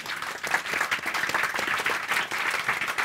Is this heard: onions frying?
no